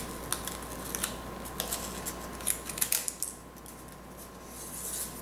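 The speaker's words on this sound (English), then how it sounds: "I'm going to have to get a smaller scissors to get in there." Small scissors snip along the edge of a handmade wedding card in a series of quiet, irregular clicks and crisp cuts, close up in a still room with a faint steady hum.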